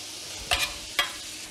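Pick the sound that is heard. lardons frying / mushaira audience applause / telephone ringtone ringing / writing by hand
lardons frying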